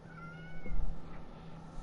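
A pet cat lets out a single drawn-out meow, close and clear over a low steady hum, with no talking.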